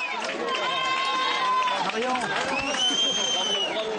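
A crowd at an election night event cheers and calls out in a lively, sustained hubbub of raised voices and shouts, with individual voices rising above the mass.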